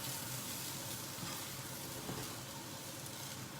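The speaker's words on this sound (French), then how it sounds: "Donc là, on fait bien revenir le shiitake." Shiitake mushrooms sautéing in about two tablespoons of oil give a steady, close, broadband sizzle that holds an even level throughout, with faint stirring clicks and no voices.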